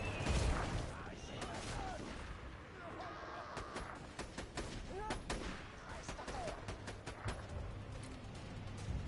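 Turret gunfire in a video game, a continuous clattering burst of rapid shots and booms that fills the stretch, with players talking over it.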